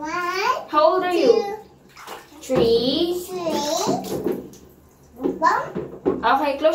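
Water runs as a young child is showered and bathed at home, a steady splashing wash heard under a small child's chatter and an adult's voice.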